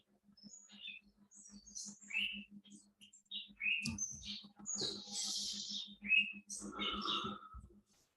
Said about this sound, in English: You guys can hear my birds.